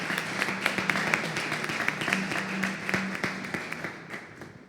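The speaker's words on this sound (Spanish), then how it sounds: "También le damos un aplauso de bienvenida." Applause from a church congregation welcoming guests, a steady patter of many hands clapping at moderate distance with scattered sharper claps standing out over about five seconds.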